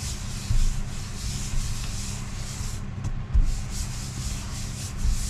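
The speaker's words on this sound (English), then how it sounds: "next you want to take an alcohol pad and you want to clean both surfaces thoroughly" An alcohol pad rubs firmly over the surfaces of an inflatable kayak mount and its base, a steady close-up scrubbing rasp that continues throughout with small bumps and no talking.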